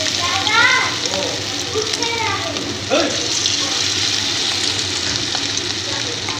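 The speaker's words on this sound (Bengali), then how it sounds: "এইভাবে করে সব বড়াগুলো আমি ভেজে নিচ্ছি।" Mutton fat fritters (bora) frying in oil over a low flame, a steady soft sizzle running throughout with a voice talking over it.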